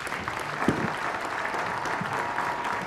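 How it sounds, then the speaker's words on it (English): At a river forum, an audience gives a panel a round of applause: a dense, even burst of clapping that runs through the whole stretch at moderate loudness. "Let's give them a round of applause"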